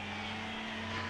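A helicopter summoned in an Indian bike video game drones with a steady low rotor-engine hum and a broad whooshing wash, constant and moderately loud across a brief stretch with no speech.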